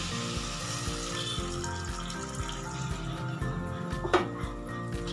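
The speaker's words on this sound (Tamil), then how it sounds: "நான் இப்போ ஒரு இரநூறு அம்மல் புளி தண்ணி வந்து இதில் சேர்த்துக்கிறேன்" Tamarind water poured into a dried-fish curry pot, a steady watery splash and trickle against a low cooking hiss, with a brief sharper splash near the end.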